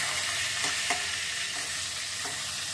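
Pieces of rohu fish fry in hot oil with a loud, steady sizzle throughout, broken by a few soft clinks and scrapes of a utensil stirring in the pan.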